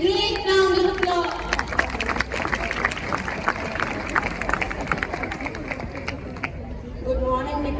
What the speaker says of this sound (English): Welcome her on stage with a great round of applause